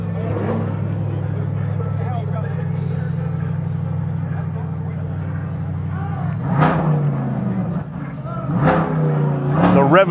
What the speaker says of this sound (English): The rev of the engine always turns heads.